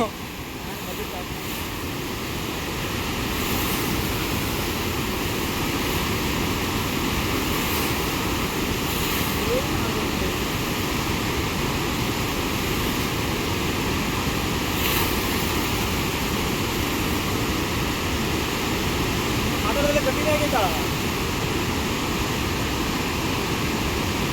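Water rushes through the opened gates of the Hemavathi dam at Gorur, a loud, unbroken broadband roar that holds steady throughout.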